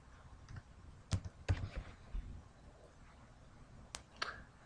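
A few sharp keystrokes tap out an activation code on a computer keyboard, close and quiet, with irregular clicks spaced across a few seconds.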